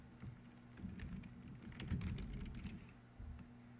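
Computer keyboard keys clatter in scattered bursts of soft, quick clicks at close range, rising into a busier flurry midway and trailing off, with no talking over them.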